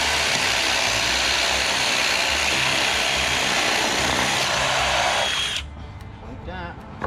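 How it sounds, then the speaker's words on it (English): A power drill with a 1-inch spade bit boring into wooden framing, a loud continuous whirring grind that stops abruptly near the end, leaving quieter room noise. "I'm just going to drill these right in place using a 1-inch spade bit."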